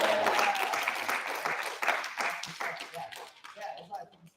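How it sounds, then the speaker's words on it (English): An audience applauds the soloists of a jazz reading band, a burst of clapping that thins and fades away over a few seconds. "Give a round of applause for our soloists in there."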